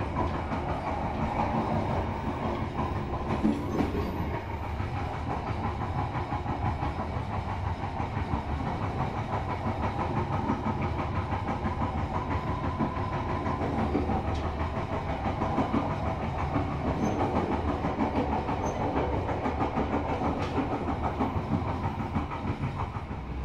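The Ambarawa Ekspres, a very long passenger train, rolls along the rails with a steady rumble and faint clickety-clack heard from inside the coach, continuous throughout.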